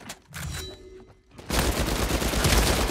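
Dense burst of gunfire in an Uncharted 4 multiplayer match, starting after a quieter stretch and continuing as a loud, sustained volley of rapid shots with no talk.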